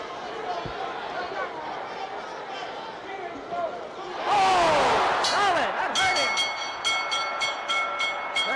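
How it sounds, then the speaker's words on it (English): A ringing bell signals the end of a round at the Muhammad Ali versus Joe Frazier heavyweight boxing rematch, sounding as repeated sharp dings over a loud arena crowd roar while a commentator talks. "There's the bell"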